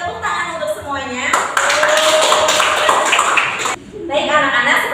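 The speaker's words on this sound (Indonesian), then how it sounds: "Tepuk tangan untuk semuanya" Children clapping together in a classroom, a burst of dense applause lasting a few seconds, with a teacher's voice speaking before and after it.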